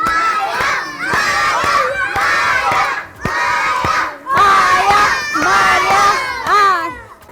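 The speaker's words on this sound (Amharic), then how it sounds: "ደጋፊዎች በደንብ ሞቅ አርጋችሁ ደግፏቸው።" A crowd of schoolchildren at a kindergarten games day shouts and cheers loudly and continuously during a sack race, a dense close roar of young voices with brief dips in between.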